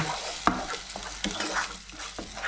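Caramelised onions sizzle steadily in a frying pan while a utensil scrapes and stirs through them, with sharp clinks of the spoon against the pan standing out over the continuous frying hiss; no one speaks.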